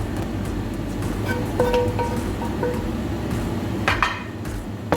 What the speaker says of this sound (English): The shrimps are ready now, so I will be transferring them into a mixing bowl.